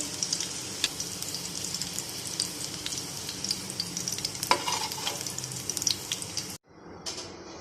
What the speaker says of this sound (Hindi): इनको चारों साइड से फ्राई कर लेंगे